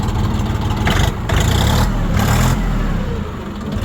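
A tractor engine revs up and settles, a loud, close, rough low rumble that surges in pitch and volume several times before easing back toward idle.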